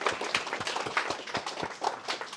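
Audience clapping at a harmonica book launch, a steady, dense patter of many hands lasting the whole stretch, moderately loud and fairly close, with no voices over it.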